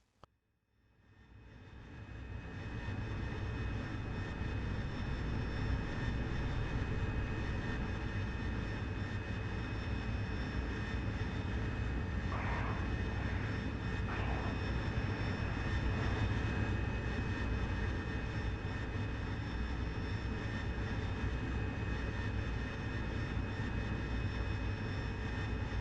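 Aircraft engines roar in the DCS flight simulator, an A-10 Thunderbolt and a Harrier jet, spooling up from near silence into a steady, droning, tonal whine that holds for the rest of the span.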